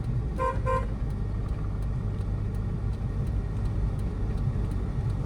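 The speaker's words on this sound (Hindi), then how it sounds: "यहाँ पे एक लॉन्ग हॉर्न प्रेस करो" A car horn sounds in two short bursts over the steady low rumble of a running car engine on a village road, then the engine hum continues alone.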